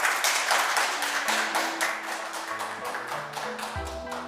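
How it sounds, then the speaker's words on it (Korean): At a corporate tech conference session, the audience gives welcoming applause for a presenter, moderate clapping over a background music bed that continues throughout. "여러분 환영의 박수 부탁드립니다"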